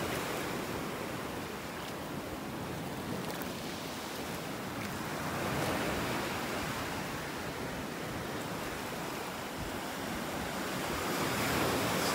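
Ocean surf rolls steadily onto a beach in North Naples, Florida, a continuous broadband wash of breaking waves with a faint wind rumble and no voices.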